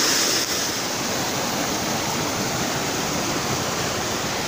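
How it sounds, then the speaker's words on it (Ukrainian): Pugachivka waterfall in the Carpathians, about 10 metres high, roars as a steady, loud broadband rush of falling water that holds constant throughout, with no voices over it. "Полюбуйтеся ви на цей клас, красунчик, водоспад Пугачівка."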